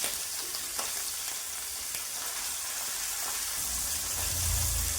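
Tengra fish frying in hot salted oil, a steady close crackling sizzle that swells louder toward the end, with no talking.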